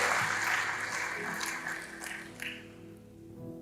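A church congregation applauds, a dense wash of clapping that is loud at first and then gradually thins and fades.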